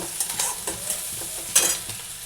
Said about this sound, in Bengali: পেঁয়াজটা একটুখানি হালকা ভাজা হলেই আমি কিন্তু ঝিঙেটা দিয়ে দেব